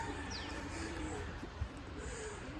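Pigeons coo softly somewhere outdoors under bright sun, a faint, steady murmur mixed into quiet open-air background noise with no one talking.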